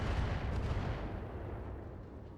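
Heavy gunfire and booming weapon blasts in a mech combat game, a dense continuous barrage that stays loud and fades only slightly over the stretch.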